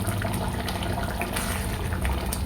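Water poured from a vessel into a simmering cashew masala gravy with baby corn, a continuous splashing, gushing pour heard up close and alone for a couple of seconds.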